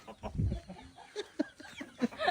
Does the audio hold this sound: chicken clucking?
yes